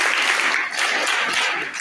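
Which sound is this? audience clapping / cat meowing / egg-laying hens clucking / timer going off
audience clapping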